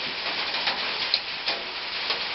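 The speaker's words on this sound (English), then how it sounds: "it's raining and the rain's on the roof" Rain falling on a roof, a steady close hiss of drumming drops with occasional sharper ticks and patters standing out, no voices over it.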